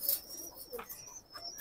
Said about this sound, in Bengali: দেখেন কবুতরগুলো মাশাআল্লাহ একেবারে হাই ফ্লায়ার কবুতর